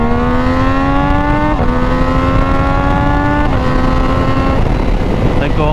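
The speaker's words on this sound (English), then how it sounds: "we're gonna hit 30 and then we're full throttling it" A Triumph Daytona 660 motorcycle with a BT Moto tune accelerates hard at full throttle, the engine rising loud and close through several gear changes, with wind rush throughout.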